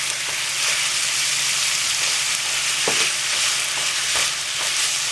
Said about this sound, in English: stir it around so you can break down the turkey, the ground turkey. Add your onions.